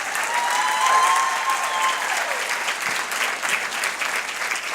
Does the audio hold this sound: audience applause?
yes